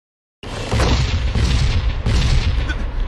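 Battle in the BlazBlue Chronophantasma Extend video game: a sudden loud boom kicks off a sustained roar of gunfire and explosions, with a second heavy blast about two seconds in.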